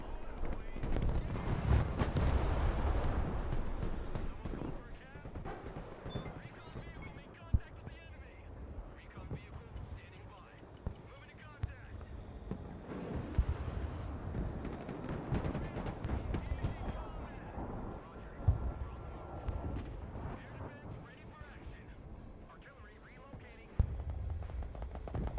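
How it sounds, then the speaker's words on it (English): Artillery fire support in the Broken Arrow video game: booming impacts and rumble rolling through a dense battle soundscape over about twenty-five seconds, with a voice talking over much of it. "Look at all the fire support coming in."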